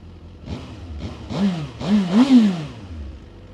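Suzuki GSX-R 1000 motorcycle with 22,000 km on it, engine blipped in a few quick rising revs, close and moderately loud, with a low idle between and after.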